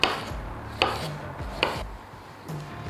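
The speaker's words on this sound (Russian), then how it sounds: "Пока мясо жарится, быстро порублю салат." A knife chops salad vegetables, tomatoes, herbs and onion, on a cutting board in a kitchen, giving four sharp, close, evenly spaced chops roughly once every second with no voices.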